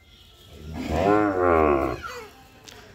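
A single long, low moo from a nearby Sahiwal bull calf swells and fades over about a second, followed by quiet background noise.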